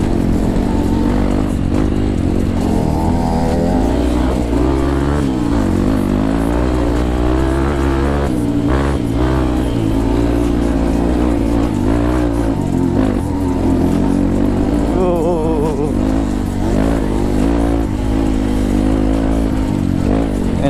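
A motorcycle fitted with a Borax engine on a trail ride through hilly terrain near Garut, its engine droning and revving loudly and continuously close by, with people talking over it.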